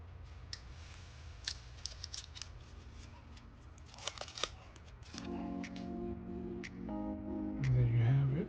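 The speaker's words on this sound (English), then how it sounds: "Let's go ahead and unwrap this." Packaging for an Apple Watch SE, 3rd generation, 40 mm starlight model, is unwrapped: quiet crinkles, clicks and rustles of paper and plastic, growing denser and fuller toward the end.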